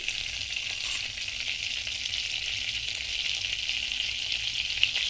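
Two spoons of butter sizzle in a hot wok (kadai), a steady close crackling hiss that holds at an even level throughout, with no voices.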